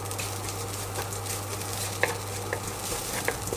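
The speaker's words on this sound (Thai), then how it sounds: "แล้วก็ผัดจนหอมนะครับ" Steady sizzling of curry paste stir-frying in a hot pan for a Thai beef curry, with a few soft scraping taps from stirring now and then.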